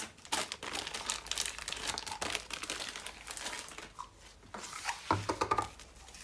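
An old ribbon rustles and crinkles as it is unrolled and handled close by, with soft, irregular crackles and small taps running through, and no talking.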